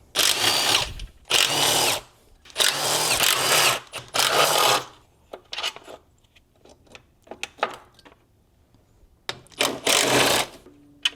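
Power tool spinning out intake manifold bolts on a 2007-2010 E70 BMW X5 3.0si during DISA valve replacement, with several loud bursts of whirring close by in the first five seconds and short pauses between them, then quieter clicks and a final burst.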